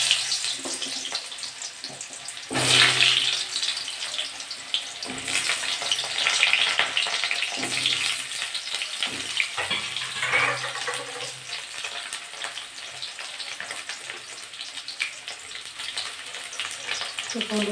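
Potatoes go into hot oil for a Bengali soybean, potato and pointed gourd curry, giving a steady, close sizzle of frying that runs throughout, with a louder surge early on and light stirring and clatter over it.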